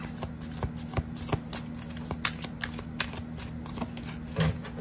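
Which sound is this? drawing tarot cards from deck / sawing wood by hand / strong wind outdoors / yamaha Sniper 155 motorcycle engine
drawing tarot cards from deck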